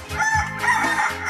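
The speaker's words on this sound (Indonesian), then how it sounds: "Wow, ada suara ayam berkokok." A rooster crows loudly and close by in one long, wavering cock-a-doodle-doo with no voices over it.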